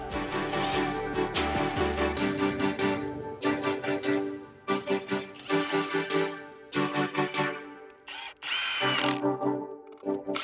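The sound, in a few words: power driver driving lag bolts into wooden platform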